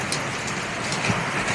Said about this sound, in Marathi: हे बघा, मध्येच पाऊस आला, इथं थांबलो आहे साईडला.